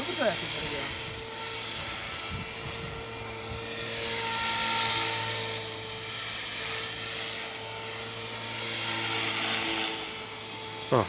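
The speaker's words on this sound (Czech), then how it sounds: "Se mi líbí, jak je to tichý, na ten vrtulník tady ten." A model helicopter with a new cabin flies nearby, its rotor and motor giving a steady whine with slow swells in loudness, while people talk over it.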